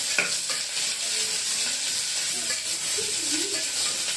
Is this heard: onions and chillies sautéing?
yes